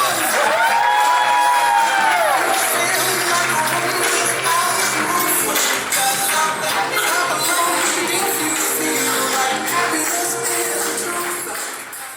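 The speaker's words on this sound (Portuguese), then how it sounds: "Mais uma salva de palmas, queridos." Wedding guests cheer and clap for the newly married bride and groom, a dense, steady crowd roar with whoops and scattered shouts that carries on throughout, fading slightly at the end.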